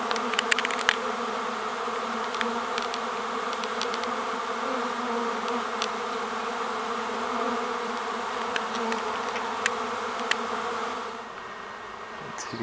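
A honey bee swarm massing around a hive, a dense steady drone of thousands of wings with individual bees zipping past the microphone, close and continuous, fading somewhat near the end.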